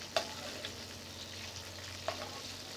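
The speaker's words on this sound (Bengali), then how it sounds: "আমি হালকা আছি ভাজছি মাছটা" Tengra fish frying in a pan gives a quiet, steady sizzle with a few soft clinks and scrapes near the start and again later, heard alone without talk.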